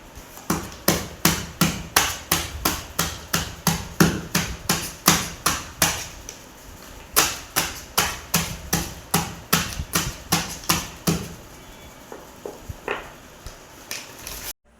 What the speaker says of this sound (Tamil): இந்த மாதிரி வெல்லத்தை நீங்கள் வந்து நுணுக்கிக்கலாம்.